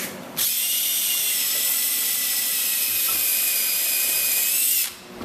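A power driver whirs in one sustained, steady high run of about four seconds, driving screws into a new bottom frame on a 1946 Chris Craft Brightside U22 boat, loud and close with no talk.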